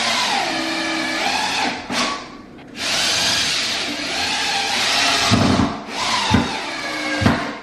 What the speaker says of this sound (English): I've got to put screws into the ends here